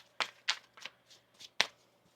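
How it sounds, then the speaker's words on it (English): Tarot cards being shuffled by hand in a few quick, crisp riffles and flicks close to the listener, quiet and with no talk over them. "One more shuffle here."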